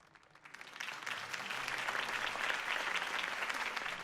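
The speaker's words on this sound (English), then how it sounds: "If only Mr. Wayne, my campaign's largest backer, could have heard that applause" A crowd in the Batman video game The Enemy Within bursts into applause after Harvey Dent's campaign speech, rising from quiet into sustained, dense clapping that holds strong to the end.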